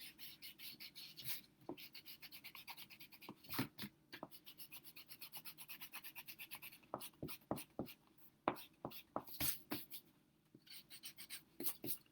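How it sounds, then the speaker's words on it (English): Pencil marks being rubbed out on paper with an eraser, heard as quiet close scratchy rubbing strokes in irregular bursts over several seconds, with no talking. "you're going to need to erase those inside lines that you made"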